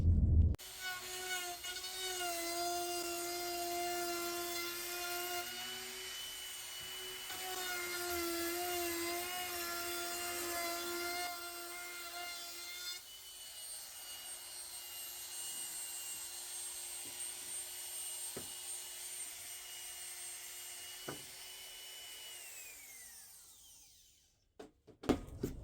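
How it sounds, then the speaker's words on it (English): A small trim router whines at high speed cutting wood trim molding, a steady close pitched drone with shifting tone that holds for most of the stretch before spinning down near the end. "we're going to just use a little trim router"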